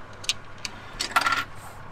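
Small coins clink and jingle as loose change is handled to pay a fee at a German riverside spot, a few brief metallic taps followed by a short close rattle.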